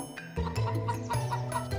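Chickens cluck and squawk close by at a fair with a ring-toss game, short rough calls in quick succession over a busy background.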